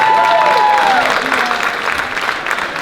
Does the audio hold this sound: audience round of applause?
yes